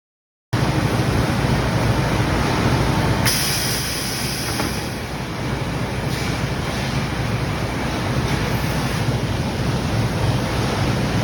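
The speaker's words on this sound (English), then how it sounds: "It can finish expanding and flaring hundreds of copper tubes in one single operation" A fully automatic CNC horizontal copper tube expanding machine runs in a factory, a loud continuous mechanical rumble and hiss with a brief rise partway through, no voices.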